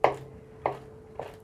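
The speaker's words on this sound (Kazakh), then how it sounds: "Осылай грек жаңғағын ұсақтап турап аламыз." Walnuts being chopped with a knife on a board: three distinct, evenly spaced chops, close and fairly loud, with quiet between them.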